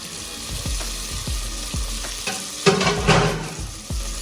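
Chopped tomatoes frying with onions in a pan for a tangy brinjal curry, a steady sizzle broken by repeated scraping stirs of a spatula, close and clear with no talk.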